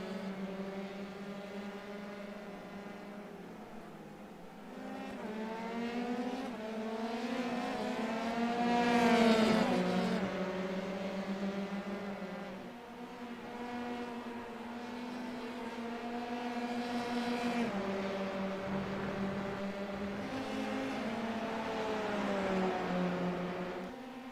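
Formula 3 race cars in a racing video game roar past in a steady, overlapping engine drone, pitch rising and falling through gear changes with one close, louder pass in the middle; no talk over it.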